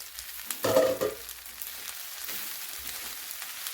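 Vegetable pulav being stirred and mixed in a pan, with a short scraping, sizzling burst near the start followed by quieter, steady cooking noise and no speech.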